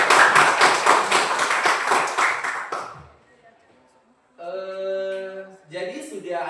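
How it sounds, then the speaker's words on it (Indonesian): A burst of clapping from a small group for about three seconds, then quiet, followed by someone talking. "Iya, tepuk tangan."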